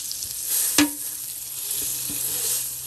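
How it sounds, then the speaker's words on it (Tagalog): Butter with a little oil sizzling in a pan at the start of a pasta sauce, a steady soft hiss throughout with a brief louder clatter near the start and faint clicks later, no talking. "Naglagay na ako ng butter, konting oil, and then yung garlic natin."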